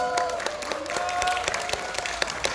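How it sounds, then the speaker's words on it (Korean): Audience applause for a guest singer at a mushroom festival stage show in Yangyang, a steady crowd clapping with sharp individual claps standing out, loud and continuous throughout. "다시 한 번 여러분 박수 부탁드리겠습니다"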